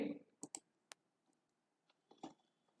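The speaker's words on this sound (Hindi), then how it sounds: "क्विक एक्सेस टूल के सेव बटन को क्लिक करेंगे" Mouse clicks on the save button of a quick access toolbar while saving a PowerPoint presentation; a few sharp, faint, isolated clicks spread over the moment, with a brief low voice sound at the start.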